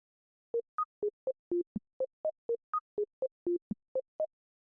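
Short, clipped notes from the sequencer of the Arturia Pigments 6 synthesizer, set to a short gate length, play as a quick staccato pattern of about fifteen separate beeps at shifting pitches, each one clean and isolated against silence.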